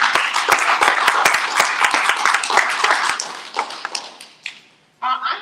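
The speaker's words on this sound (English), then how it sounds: "I think you owe yourself a hand of applause." Lively applause from an audience at a job skills graduation ceremony, many close, crisp claps that taper off into a few scattered claps before a voice begins speaking.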